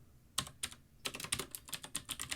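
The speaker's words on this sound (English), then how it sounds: "I need to type in subheading" A computer keyboard being typed on produces quiet, close key clicks, first a couple of isolated taps and then a quick irregular run of keystrokes.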